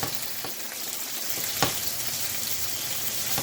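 Pork tenderloin sears in a hot pan with a steady, close hiss and sizzle, and a single brief clatter is heard as the meat is flipped.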